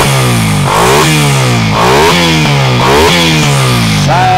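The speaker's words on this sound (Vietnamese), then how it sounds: "Đây là tiếng máy của xe Raider 88" A Suzuki Satria Raider Fi motorcycle with a quiet aftermarket exhaust revs repeatedly, its engine note rising and falling in several quick blips, loud and close with no voices.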